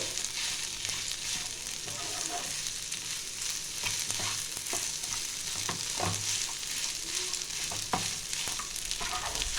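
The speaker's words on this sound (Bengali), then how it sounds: "এটা 1 থেকে 2 মিনিট ভালো করে আমি একটু ভালো করে কষিয়ে নেব, ভালো করে আলুগুলো যেন পুরো মাখা মাখা হয়ে যায়" Mashed potato sandwich filling being stir-fried in a pan: a steady close sizzle runs throughout, broken by repeated scraping strokes of a ladle against the pan.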